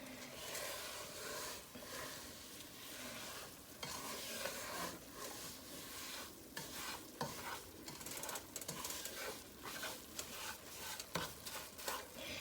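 Thick halva mixture stirred, folded and pressed flat into hot oil in a pan, giving a steady close sizzle broken by frequent scraping and knocking spatula strokes throughout.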